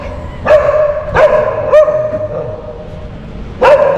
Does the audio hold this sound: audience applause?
no